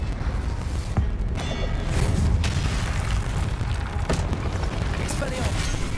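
A fire spell effect in a fantasy video game bursts with a loud whooshing boom, followed by rumbling magical flames and crackles layered over a busy game soundtrack.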